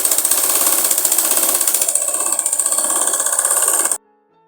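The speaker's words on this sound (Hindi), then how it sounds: "इसमें पूरे नीचे तक हमने डबल सिलाई लगा लेनी है।" A sewing machine runs steadily for about four seconds, stitching a double seam down frock fabric. Its needle chatters in a fast, even mechanical rhythm, loud and close, then stops abruptly.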